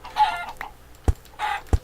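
Chickens cluck in the Minecraft video game, two short clucking calls each followed by a soft thump, close and clear with no talking.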